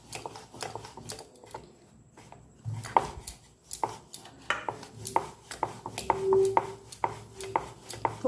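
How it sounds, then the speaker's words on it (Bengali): Pumpkin masala paratha dough rolled out with a rolling pin, light repeated knocks and thuds on a board in a steady, close rhythm, with no talking. "এরপর আমি একটা একটা করে বেলে নেব হালকা হাতে"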